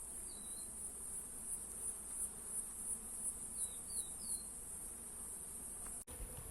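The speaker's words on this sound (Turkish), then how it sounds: "Bir haftadır arkadaşlar bu arı buraya toplanıyor" Soft, steady buzzing of honeybees at an outdoor hive, with faint high chirps of birds and a brief click near the end.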